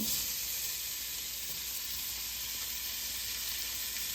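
Onion, peppers and celery sizzle with ground beef for gumbo, a loud continuous close-up frying hiss that stays even throughout, with no talking.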